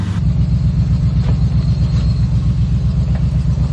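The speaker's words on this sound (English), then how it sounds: "We'll see if we can climb this in two-wheel drive." Off-road vehicle grinding up a trail in two-wheel drive, a steady loud low engine rumble and drivetrain drone with no speech.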